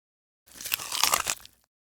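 One crisp, crunchy bite into an apple, a short burst of crackling lasting about a second, close and alone in silence.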